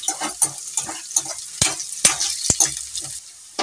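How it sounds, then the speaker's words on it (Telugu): Sliced onions sauté and sizzle in a pan for an ivy gourd fry while a spatula stirs them, giving soft frying hiss broken by sharp, close clicks and scrapes in an irregular rhythm. "అదిగోండి ఉల్లిపాయ ముక్కలు మగ్గినాయి కదా"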